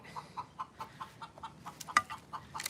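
Chickens cluck in a steady run of short, quiet calls, about one every fifth of a second, with one sharper note near the end, fairly close and heard alone without talk.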